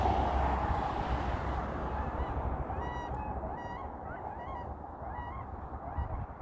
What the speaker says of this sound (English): You can hear some of them way over there, the swans, flapping about and making a noise.